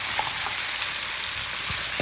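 Chicken adobo with lemongrass frying in a pan, a steady close sizzle running throughout with faint crackles and a few small pops.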